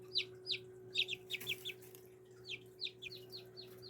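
An excited chicken clucks and chirps indoors, a string of short, bright, rapid calls in uneven bursts over a steady low electrical hum.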